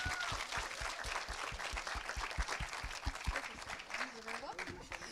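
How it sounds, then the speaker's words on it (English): Audience applause after a public presentation at an awards event, a steady burst of many hands clapping close and loud throughout, with a voice briefly rising near the end. "Let's give them another big round of applause"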